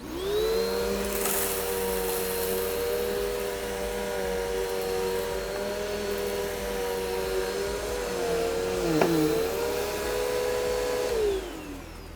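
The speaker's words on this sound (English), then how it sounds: "use your foot, press down, turn the vacuum on." A Tornado CK 14/1 Pro vacuum cleaner runs steadily and loudly with a constant whining hum, a brief dip in pitch near the end before it winds down.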